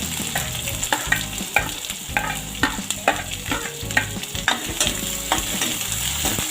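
Onions fry in a pan for pindi chole with a loud, steady sizzle. Repeated stirring strokes scrape and clatter in an uneven rhythm, and nobody speaks.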